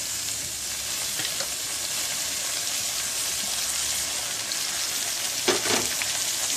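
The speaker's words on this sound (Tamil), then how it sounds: "தக்காளியை சேர்த்து நல்லா வதக்கிக்கலாம்." Chopped onions and tomatoes sauté in a hot pan, giving a steady, dense sizzle that fills the whole stretch, with a couple of brief stirring scrapes near the end and no talking.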